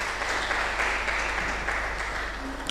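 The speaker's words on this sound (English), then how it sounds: "Please a round of applause for him." Audience at an academic event on artificial intelligence in healthcare applauding the event chairman, continuous clapping at an even, fairly loud level throughout, without a clear voice over it.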